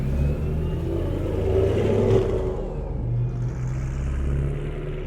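A 2008 BMW E92 M3 drives with a steady, loud engine drone and road rumble heard from inside the cabin, rising slightly in the middle without a break.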